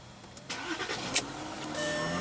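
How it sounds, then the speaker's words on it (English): A 2016 Volkswagen Touareg's 3.0-litre V6 diesel engine starts up close by, a brief cranking burst that catches and settles into a steady, rising idle rumble. "And what you're hearing there is a 3-liter V6 diesel engine."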